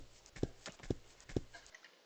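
Horse hooves clip-clop in the riding game Let's Ride, three evenly spaced, fairly loud hoof strikes over a faint steady background hum that cuts off near the end.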